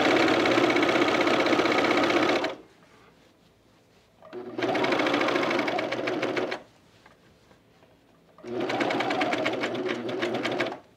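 A serger sewing machine stitching fabric for pajama bottoms runs in three loud, steady bursts of about two seconds each, separated by short quiet pauses.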